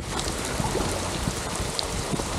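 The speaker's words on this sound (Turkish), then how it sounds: "yağmur görüş alanımı iyice kapatıyor yağmur" Rain falls steadily around a canoe on a lake in Masuria, a dense even hiss of drops on water with a light wind among reeds, constant and close, with no voices.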